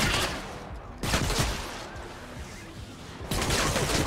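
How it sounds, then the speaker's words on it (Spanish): Gunfire in the video game Fortnite, three sharp bursts of rapid shots at close range, with brief quieter gaps between them. "Racha de 5 disparos a la cabeza, muy ricos."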